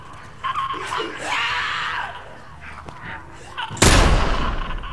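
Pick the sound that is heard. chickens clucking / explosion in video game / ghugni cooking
explosion in video game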